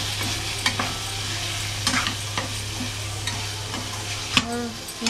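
Spiced sambhar mixture with turmeric being stirred in a pan, a continuous close sizzle with a low steady hum beneath and occasional scrapes and taps of the spoon.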